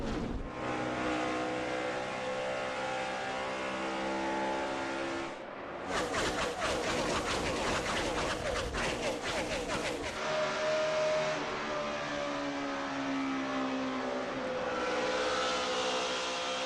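NASCAR stock cars at the 2010 Samsung Mobile 500 accelerate at a restart, a dense, loud engine roar that surges into a harsh, crackling blast as the field passes, with a commentator talking underneath.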